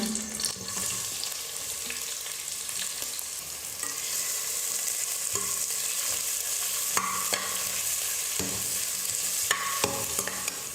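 Thinly sliced onions fry in hot oil with fennel seeds and green chilli while being stirred for lunch-box rice, giving a steady close sizzle with scraping spoon strokes throughout and no talk.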